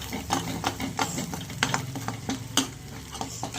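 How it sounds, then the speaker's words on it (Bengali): Ginger, cumin, garlic, onion and chilli masala fries in hot oil for rajma, a steady close sizzle broken by repeated scraping stirs of a spoon against the pan. "এই যে তেলে ভেজে নিচ্ছি।"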